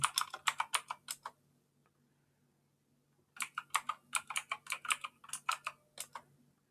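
Rapid bursts of keystrokes on a computer keyboard as a sudo command is entered, a quick flurry, a pause of about two seconds, then a longer run of close, crisp clicks over a faint steady hum.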